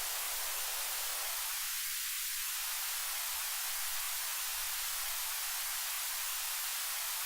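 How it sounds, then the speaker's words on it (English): Steady broadband white noise hisses evenly throughout, fairly quiet and continuous with no voices. "There's going to be a bunch of white noise right now."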